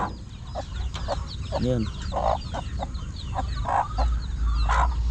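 Chickens cluck around newly hatched chicks in a backyard, with scattered short clucks and a few higher peeps close by over steady ambient noise, and a voice speaks briefly.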